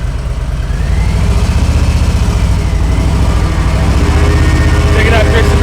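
Harley-Davidson motorcycle engine running steadily and loud close by, a low rumbling throb that holds through an upshift and acceleration, with a faint higher whine near the end.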